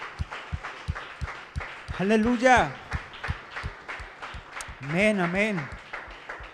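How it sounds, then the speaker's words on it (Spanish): Church congregation clapping in a steady rhythmic beat, moderately near, while a preacher's voice calls out over the claps twice. "Dele ese fuerte aplauso a Dios."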